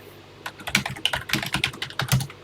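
Typing on the keyboard of a TI-99/4A home computer: a quick, steady run of clicky keystrokes, close and clear, with no voices.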